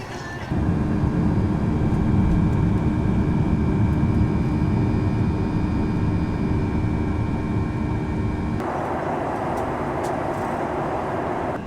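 Inside an airliner cabin on a snowy day, the engines produce a loud, steady roar with a broad rushing hiss. The drone holds level for most of the clip, then shifts to a thinner, brighter tone.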